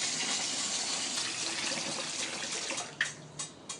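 Rice rinsed by hand in a bowl of water, a steady splashing and swishing wash, close and fairly loud, with a few sharper sloshes near the end.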